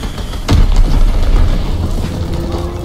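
A fighter jet airstrike explosion in a shooter game hits as a single heavy boom, then leaves a long low rumble that slowly fades under continuing game ambience.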